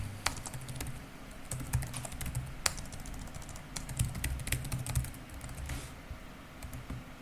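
Fingers type on a computer keyboard to log into a web app, a brisk run of light, uneven key clicks with a few sharper taps, close and steady, with no talking.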